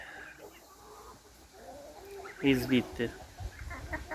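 Hens cluck and a rooster calls loudly nearby in a backyard flock with young chicks, with a few words of speech briefly heard.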